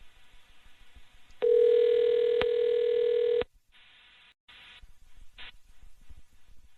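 A telephone call rings through a handset, giving one loud steady tone lasting about two seconds and ending abruptly, then short clicks and brief bursts of line noise, with no talk.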